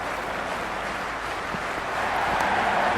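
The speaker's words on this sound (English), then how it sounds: "already the crowd is up and about." Stadium crowd cheering in an India vs Pakistan cricket video game, a steady broad roar of many voices that swells slightly louder toward the end, with no talk over it.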